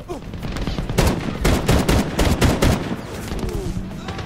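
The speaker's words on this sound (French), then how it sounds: "Mitrailleuse sur le balcon" Rapid machine gun fire rattles in loud, dense bursts from a balcony position in the Medal of Honor video game, with continuous shots that tail off toward the end.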